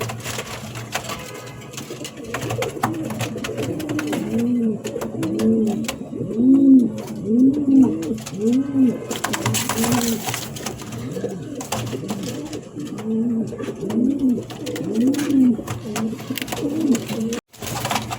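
Cooing of a female pigeon sounds close and loud, a steady run of soft, throaty rolling coos repeated without a pause.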